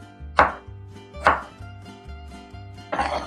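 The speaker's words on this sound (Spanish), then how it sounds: "dos jitomates y este pues así lo voy a picar, nada más así" A knife chops two ripe red tomatoes on a cutting board, giving three distinct, fairly loud chopping strikes spaced about a second apart, with soft board knocks between them and no talking.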